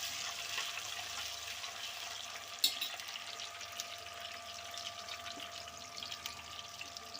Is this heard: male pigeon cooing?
no